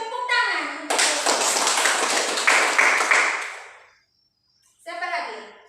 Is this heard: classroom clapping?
yes